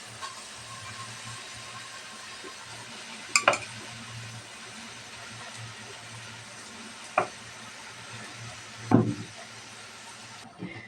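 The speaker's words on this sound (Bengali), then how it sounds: "আমি শাকটা নাড়াচাড়া করে মশলার সাথে মিশিয়ে নেব" Kalai greens being stirred into fried spices in a pan make a steady low sizzle, with a few sharp scraping clinks from a utensil against the pan.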